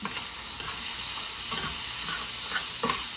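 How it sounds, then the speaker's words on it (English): Mushrooms cook on a stovetop with a steady, close sizzle and hiss, and soft stirring scrapes break through now and then. "I wanted to cook my mushrooms in with it, so I'm doing it on top of the stove"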